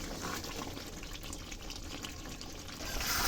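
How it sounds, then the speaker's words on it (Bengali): Masala bowl rinse water pours into a pot of mutton curry, a soft continuous watery splash and gush that swells slightly at the end, quiet and alone. "এবার আমি মশলার বাটি ধোয়া জল দিয়ে দিলাম"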